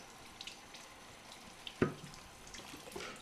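Salted cut vegetables, with kelp among the ingredients, are rinsed under running water in a kitchen sink: a soft, steady trickle and splash with one sharper knock of a bowl or pan partway through.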